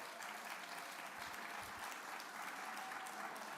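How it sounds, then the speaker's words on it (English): A large audience at a disabilities summit claps steadily for the Florida legislature, a dense sustained wash of applause heard from a distance in a big hall. "you should give them a round of applause"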